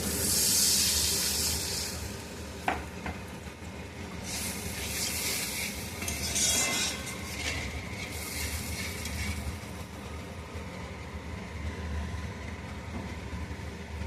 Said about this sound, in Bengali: এবার এতে দিয়ে দেব খানিকটা জল।